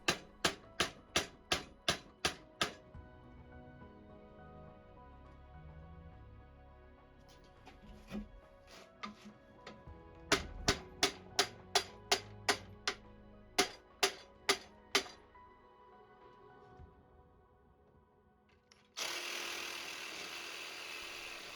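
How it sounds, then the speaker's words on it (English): Sharp metallic hammer strikes on a chisel, knocking out a Nissan 350Z rear suspension bushing, come in quick bursts with pauses between them, followed by a louder hissing, scraping noise at the end. "using a screwdriver or chisel, start hammering the sides out inwards to the middle of the bush"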